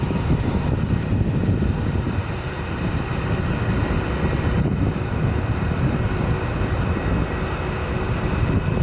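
A KLM Boeing 787 departing San Francisco Airport produces a loud, continuous low jet roar with broadband rush, steady throughout the clip without speech.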